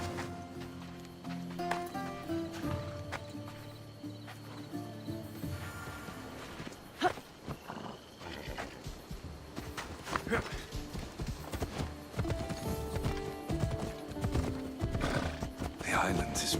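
Horses in Assassin's Creed Odyssey break into a gallop with rhythmic clip-clopping hooves, and a neigh sounds partway through. A game score plays and voices talk over the riding.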